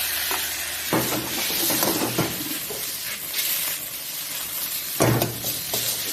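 Garlic and mushrooms stir-fried in a pan, a steady close sizzle broken by several scraping stirs of the utensil against the pan, no speech.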